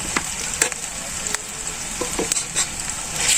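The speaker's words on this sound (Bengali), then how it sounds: "সবকিছু ভালো করে আমি একটু ভাজে নেব। এখন ভালো করে ভাজে নিচ্ছি।" Onion, ginger and garlic paste frying in a pan, a continuous hiss of sizzling oil with scattered scraping stirs of a spatula, close and fairly loud, without speech.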